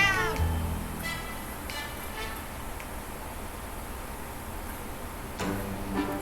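A cat in the video game 60 Seconds meows several times, short clear calls spread across a few seconds over a faint steady background, close and distinct with no speech.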